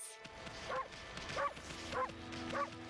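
In the video game Okami HD, a cartoon dog gives four evenly spaced barks, each a short yipping bow-wow over a low game background hum.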